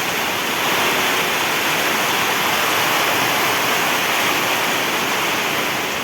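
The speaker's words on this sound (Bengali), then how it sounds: "কি বৃষ্টি হচ্ছে দেখো" Heavy rain pours down steadily on a veranda during a thunderstorm, a dense, continuous hiss that stays loud and even for the whole stretch with no voices over it.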